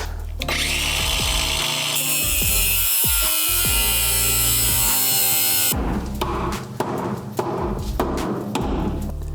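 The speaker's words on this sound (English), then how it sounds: "We're just gonna make some cuts, hammer it in." A power cutting tool screams loudly for several seconds cutting a Toyota 4Runner's pinch weld, then stops and is followed by a series of sharp, irregular metallic hammer blows on the weld.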